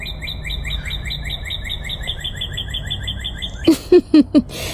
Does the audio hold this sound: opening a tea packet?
no